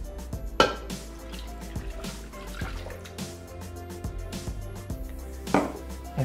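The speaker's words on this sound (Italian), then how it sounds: "Andiamo ad aggiungere l'acqua." Water is poured into a Thermomix bowl while making mojito ice pops, giving scattered drips and splashes with a few sharp knocks and clatters, close and moderately loud.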